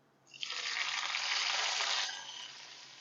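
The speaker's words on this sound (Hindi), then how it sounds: "ये देखें ज़ीरा कड़कड़ाना शुरू हो गया है, तड़का हो गया है तैयार" Steady hiss of cumin seeds sizzling in hot oil for a tadka, starting abruptly and staying loud before easing off slightly near the end.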